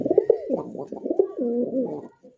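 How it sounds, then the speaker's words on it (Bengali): A Rasgolla pigeon coos close by in a short, throaty, rolling phrase of soft pulsing notes, alone and clear. "ডাকটা কি বাকবাকুম"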